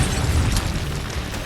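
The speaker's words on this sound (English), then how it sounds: "The explosion knocked Mason off his feet." A bomb hidden in a trash can detonates in a dramatic explosion effect, a loud low boom with a rumbling roar that lingers briefly with no voices.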